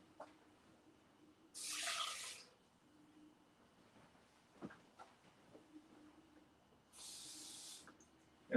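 Tap water runs in two short, steady bursts into a cup for cooking rice in a kitchen, with quiet room noise between them and no talk.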